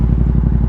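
A Yamaha MT-07 motorcycle fitted with an Akrapovic exhaust idles or putters close by, giving a loud, low, rapidly pulsing exhaust throb with a steady rhythm and no speech.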